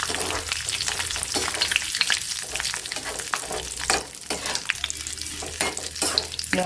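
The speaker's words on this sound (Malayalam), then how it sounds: "കറിവേപ്പില നന്നായി ഒന്ന് വറുത്ത് കോരണം." Curry leaves fry in hot oil while making oil-based mango pickle, a continuous crackling sizzle with sharp spattering pops and occasional stirring, close and steady with no voices.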